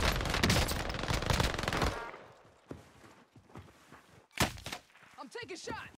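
Rapid automatic gunfire from a Warzone Caldera match, a dense loud burst for about two seconds, followed by scattered single shots and impacts with voices over the action.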